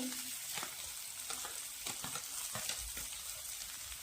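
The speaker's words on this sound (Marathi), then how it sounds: "आता कांदा घालून घेऊया" Onion sizzles and crackles in hot oil in a pan with cumin and coarsely crushed ginger and garlic, with a few scraping stirs, close and steady.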